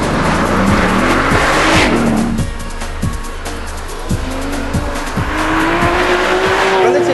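A Porsche 997 GT3 RS drives hard, its engine revving up and down through gear changes with tires squealing, loud and close throughout.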